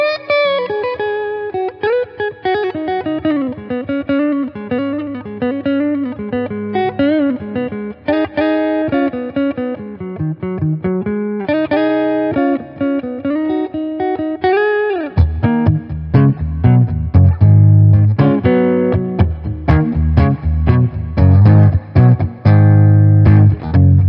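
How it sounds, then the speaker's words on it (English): Electric guitar through a Boss Katana MK2 amp set to a Fender-style clean tone plays melodic single-note lines and chords, then shifts to louder, fuller strummed chords with a bright, clean ring. "this is the kind of clean tones you can get with that Fender classic T sound"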